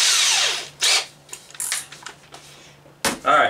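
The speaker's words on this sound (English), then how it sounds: "take your drill and go into the corners" A power drill, with a bit around 3/8, whirs in several short bursts, revving up and stopping, with quiet pauses and small clicks between, drilling the corners of a primer alarm-round counter part for a Loadmaster reloading press.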